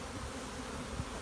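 Honey bees buzz steadily on a lifted hive comb, a dense continuous hum close by with no voices.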